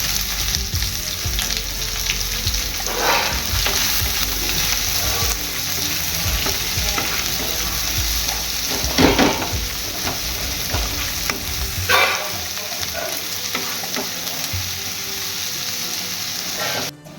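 Onions frying in a pan at a Bengali home kitchen, with a steady crackling sizzle throughout and repeated scraping stir strokes standing out near the middle and later, loud and close with no talking.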